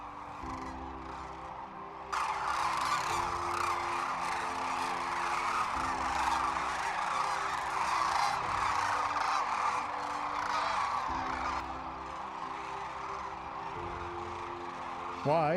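A large flock of sandhill cranes calls as it settles onto the Platte River at sunset, a dense, continuous chorus of rattling cries rising suddenly after a quieter start and holding steady, heard from a distance.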